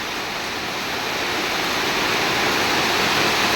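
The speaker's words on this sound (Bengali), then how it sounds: "বৃষ্টির শব্দ" Steady rain falls at night in a rural village, a dense continuous hiss that holds even and fairly loud throughout, with no voices.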